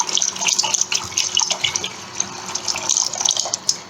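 Water poured into a pot of lentils, three cups in all: a steady, close splashing and gurgling stream that runs unbroken.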